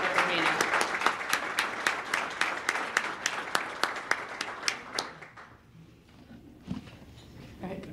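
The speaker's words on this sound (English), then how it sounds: "I'd like to ask for one more rousing round of applause for our 2023 award recipient, Barbara Arena." An audience at a chamber of commerce leadership awards event applauds an award recipient, with sharp rhythmic claps, a few louder hands standing out, thinning out and fading to a few scattered claps.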